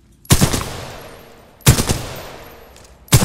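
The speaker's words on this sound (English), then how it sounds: "Okay, that's like a semi-automatic pistol. This has a delay to it." Three sharp pistol shots from a semi-automatic sidearm in the Titanfall 2 training simulation ring out loud and close, spaced evenly about a second and a half apart, each trailing off in a short echo.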